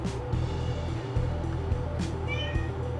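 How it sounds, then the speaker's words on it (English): Domestic cat meowing indoors, a few clear meows over a busy background hum, fairly close. "Oh, hello kitty. You're not coming in here."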